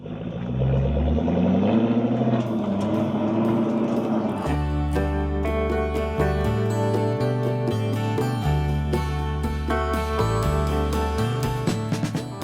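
A car drives along scenic country roads through the Black Forest, its engine humming steadily with shifts in pitch as it changes gear and accelerates, heard continuously from inside the cabin.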